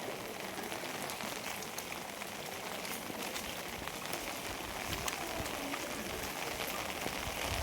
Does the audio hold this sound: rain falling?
yes